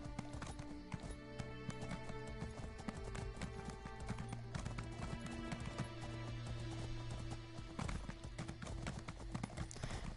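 Horse hooves from The Elder Scrolls Online clip-clop in a steady rhythm of close, crisp impacts over continuous game music and background noise.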